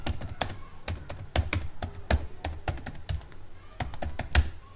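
Keys on a computer keyboard clack in quick irregular bursts as commands are typed into an Ubuntu 20.04 terminal, close and crisp, with short pauses between runs of keystrokes.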